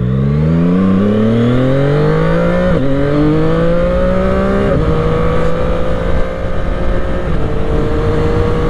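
A CF Moto 675 SR-R motorcycle engine pulls away hard, its pitch climbing steadily through several gear changes with brief dips at each shift, loud and close with no talk.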